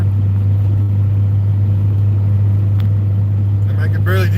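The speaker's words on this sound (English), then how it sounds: "it's noisier now in the car" Loud, steady low engine drone and road rumble inside a moving car, constant throughout, with a brief voice at the end.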